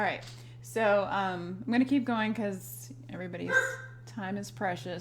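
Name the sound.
dog barking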